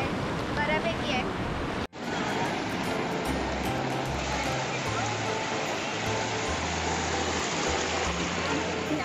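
Sea waves at Gokarna beach on the Karnataka coast, a broad continuous surf roar washing steadily with wind noise, briefly cut near the start, with low thumps under it.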